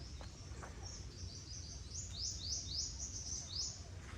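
Birds in a forested Bangkok park give a run of quick, high, rising chirps in a steady rhythm, fairly faint and set back in the trees, over a low hum of city background noise.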